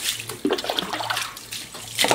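A pet dog being bathed at home with fresh water, close-up splashing and sloshing that runs continuously, with brief louder spills over a light background hum.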